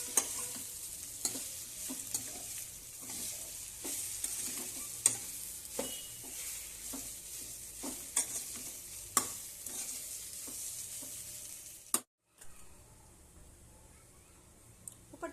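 Patra from patra leaves is stirred with a tempering in a pan, a soft sizzle underneath regular scraping spoon strokes repeating about every second, fairly quiet and close, with a short break near the end.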